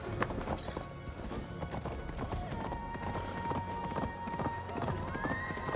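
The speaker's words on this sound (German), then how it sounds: "So, jetzt kann ich nämlich hier den Weg ganz entspannt reiten." Horse hooves clip-clopping at an easy riding pace in Assassin's Creed Valhalla, a steady rhythmic patter of fairly close hoofbeats over soft game ambience and a thin sustained tone.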